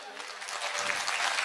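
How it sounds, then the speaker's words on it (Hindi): Audience at a dance-drama performance during a spring festival clapping, a dense wash of applause building steadily over a moment, with a voice briefly audible underneath. "नृत्य नाटिका शुरू करने से पहले ताली बजाओ"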